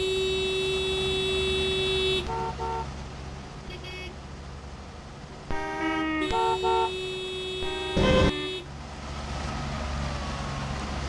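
Cars pass a level crossing in the Trainz railroad game at Tarboro, North Carolina, with steady road noise and droning horn-like tones that toot in short bursts and sustained blasts, fairly loud and continuous.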